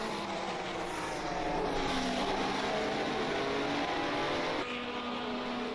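A train of 1967 Formula One cars racing at Kyalami in a sim racing game, a steady, loud engine drone with shifting pitch as several cars pass in close succession, no talk.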